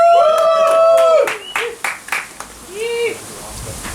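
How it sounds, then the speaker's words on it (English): A wrestling-event crowd at Just Another Wrestling Syndicate's Rum Rebellion shouts and whoops, with a handful of sharp, scattered claps that thin out partway through. "Crowd applause."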